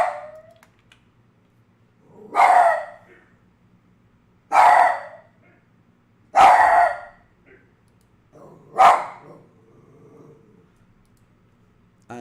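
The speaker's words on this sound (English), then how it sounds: "the neighbour very kindly is making noises back at my dog, which was making my dog even worse" A dog barks in four separate loud bursts spaced a couple of seconds apart, each a harsh, drawn-out sound close by, with quiet gaps and a faint background hum between them.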